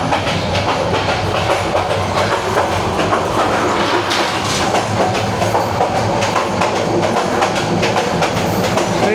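A fast passenger train running from Cox's Bazar to Dhaka, heard from inside near the front carriages: continuous loud rattling with rhythmic clickety-clack of wheels over rail joints and a steady roar.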